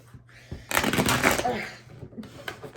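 A deck of tarot cards shuffled by hand, a rapid papery riffle lasting about a second, with a voice talking before and after.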